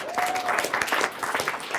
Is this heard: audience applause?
yes